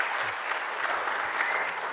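Audience applause at a mayoral debate, a dense, even wash of many hands clapping that holds steady throughout the clip without pause.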